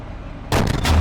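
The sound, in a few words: Leopard 2A4 tank firing sabot round in Steel Beasts Pro video game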